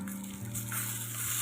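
A tempering of cumin, asafoetida and curry leaves in hot oil is added to chutney, giving a soft, steady sizzle with a faint background hum.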